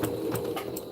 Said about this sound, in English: kind of move my sewing machine closer to me a little bit. Put that in, and I just stitch in the ditch.